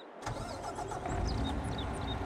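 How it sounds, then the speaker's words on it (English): A farm vehicle's engine cranks and catches in Farming Simulator 22, after the machine had run out of gas. The close starter whir quickly settles into a steady running engine rumble with rising mechanical whines. "We're going to start the engine up"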